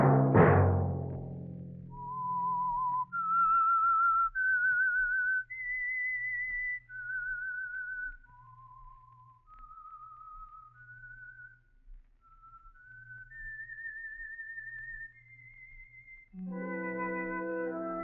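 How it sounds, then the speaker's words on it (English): The theme whistle for The Whistler radio program: a lone, clear whistled melody of sustained notes rising and falling, framed by orchestral chords at the start and end. "Let that whistle be your signal for the Signal Oil program, The Whistler"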